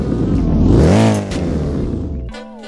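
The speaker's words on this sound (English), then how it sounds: "you get all those turbo noises and this deep throaty, but quite interesting sounding V8" A Koenigsegg Agera R V8 in the Roblox game revs loudly: a deep, throaty engine note rises and holds for about two seconds, then drops away to a quieter idle.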